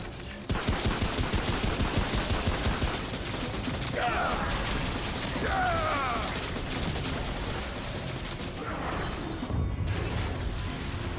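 Automated turrets fire in the shooter game Remnant: From the Ashes, giving loud rapid bursts of gunfire with mechanical clatter and impacts, mixed with other combat noise and a voice talking briefly.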